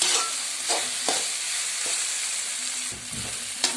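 Vegetables sauté in oil with a close, steady hiss and sizzle, broken by several quick stirring scrapes at irregular intervals, with no talking.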